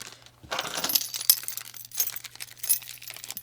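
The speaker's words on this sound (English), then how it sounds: "Sorry if you guys hate that key rattling sound." Keys jangle and rattle close by in a few bright metallic clinking bursts with short pauses between, fairly quiet overall.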